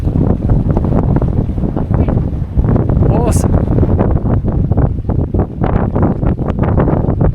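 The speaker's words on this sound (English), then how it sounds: "The wind keeps gusting up from sort of 14 to 18 apparent." Strong gusting wind roars across the microphone aboard a sailing catamaran moving under genoa, with water rushing beneath the hulls; a voice speaks briefly over the steady, loud buffeting.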